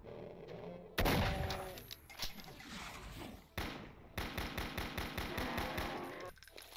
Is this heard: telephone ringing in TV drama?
no